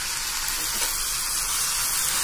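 Onion and tomato sautéing in a pan for chutney, a steady close sizzling hiss that runs unbroken and fairly loud, with no talk over it.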